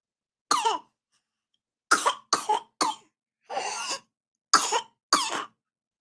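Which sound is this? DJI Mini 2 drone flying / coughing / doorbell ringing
coughing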